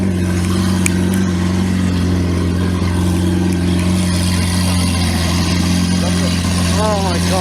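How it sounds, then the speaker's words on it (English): A Lamborghini Aventador fitted with an FI exhaust idles at a car meet with a heavy, steady low engine drone, while people chat nearby over the rumble. "That's Cliff's Aventador starting up."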